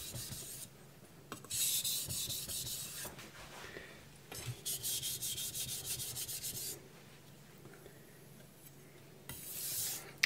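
Rapid, gritty rasping as a knife is sharpened on a fast 8000-grit Chinese whetstone, grinding off metal in bursts of quick back-and-forth strokes separated by short pauses, heard close and alone.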